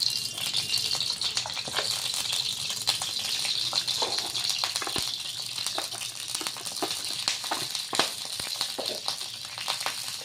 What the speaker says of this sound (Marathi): तर आता तेल आपलं गरम होत आलेलं आहे। त्यानंतर आता आपल्याला राई टाकायची आहे।